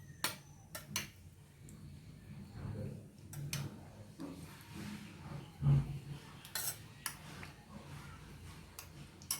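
Intermittent clinks and scrapes of a spoon mixing curd in a bowl, irregular taps and soft scraping, close by and fairly quiet.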